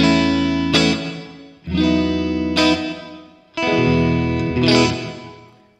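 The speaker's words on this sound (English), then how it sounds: "So if we have it off, the reverb is going to start immediately upon your attack." An electric guitar plays three sustained strummed chords through a JHS 3 Series reverb pedal with pre-delay off, each attack blooming straight into a wash of reverb that decays before the next chord.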